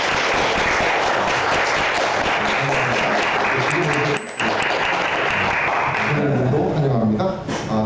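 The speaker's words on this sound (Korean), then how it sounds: "우리 오신 분들을 위해서 큰 박수 한번 부탁드립니다." A church congregation claps loudly and steadily to welcome guests, with broad sustained applause and a short bright ding partway through.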